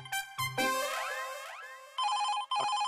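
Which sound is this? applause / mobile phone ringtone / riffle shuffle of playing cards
mobile phone ringtone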